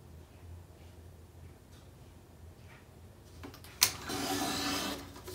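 A paper trimmer slices the edge of a sheet for a Stamperia Vagabond folio, a brief scraping cut followed by a short sharp snap and a sustained close rasp of the blade along the paper.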